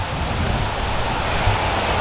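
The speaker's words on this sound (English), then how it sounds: "Just in front of us is a waterfall that we've come to see." A waterfall on a countryside walk near Cullingworth, Bradford, heard as a steady broadband rushing roar, fairly loud and unbroken, with no voices.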